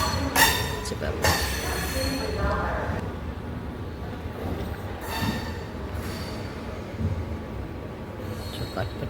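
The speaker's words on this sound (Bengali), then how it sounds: "ট্রেনে করে ফিরছি" A passenger train travelling at night, a continuous rumbling roll of wheels on track with a few sharp clanks and squeals, some muffled voices in the carriage.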